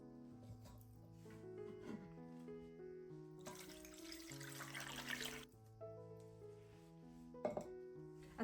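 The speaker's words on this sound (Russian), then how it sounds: "Мясо выкладываем в кастрюльку и заливаем холодной водой." Cold water pours into a pot of meat for Ukrainian borscht broth, a steady splashing rush of a few seconds standing out mid-clip over continuous background music.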